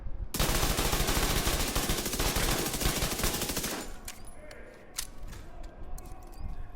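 An MP5 submachine gun fires in a video game, a fast, loud sustained burst of automatic shots that cuts off sharply, followed by scattered clicks and softer game sounds.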